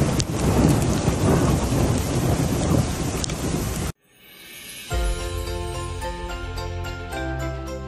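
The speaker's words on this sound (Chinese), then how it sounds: "下冰雹下雪了。" A hailstorm with snow and thunder on the Duku Highway: a dense roar of pelting precipitation with thunder rumbling underneath, which cuts off abruptly after about four seconds and is followed by tonal music.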